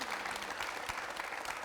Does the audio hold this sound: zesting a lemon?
no